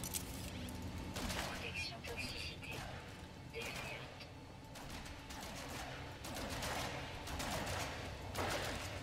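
Short bursts of gunfire ring out in the video game No Man's Sky, repeated clusters of sharp shots over busy game sound, with someone talking throughout.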